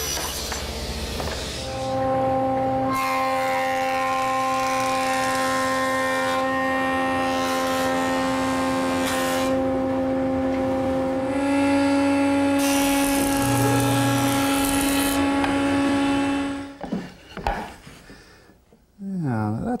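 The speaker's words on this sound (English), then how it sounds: "The first thing I want to do is split this board in half." A wooden board being sawn in half lengthwise with a power saw, a loud steady whining cut that runs for roughly fifteen seconds before spinning down, with a brief quieter gap partway through.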